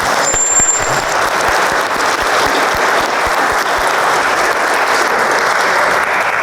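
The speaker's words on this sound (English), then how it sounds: "Round of applause for the Fisher family" An audience claps at a history lecture on Florida maps, honoring donors. Loud, dense, steady applause continues evenly from start to finish with no talking.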